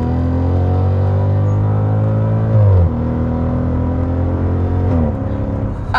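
Mercedes SLK 55 AMG roadster V8 engine revving under throttle, a steady deep drone that climbs and drops twice, heard close with no talking.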